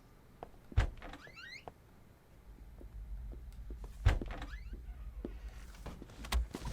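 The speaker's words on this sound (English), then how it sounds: "And close the door." A door closes in the video game Unheard: Voices of Crime, with two or three separate dull thuds spread across the clip over a low room hum.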